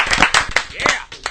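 A short burst of hand clapping, several quick sharp claps in an irregular rhythm, close and loud, in a radio show studio, with voices talking over it.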